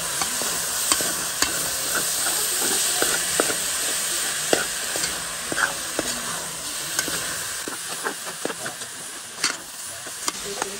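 Steady stirring of chicken and pork carry in a pot, with continuous sizzling and frying hiss, scraping utensil strokes and occasional clinks throughout, no talking.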